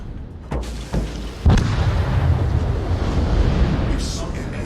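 Booming explosions sound as an enemy destroyer sinks in a naval video game, with a few heavy blasts early on and then a sustained rumbling roar beneath a speaking voice.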